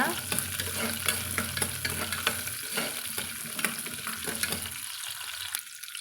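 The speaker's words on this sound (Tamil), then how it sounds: "இது எல்லாத்தையும் சேர்த்துட்டு நம்ம கலந்து விட்டுக்கலாங்க" Onions with fenugreek crackle and sizzle in a pan as they're stirred, with scraping utensil strokes; the frying noise fades slightly near the end.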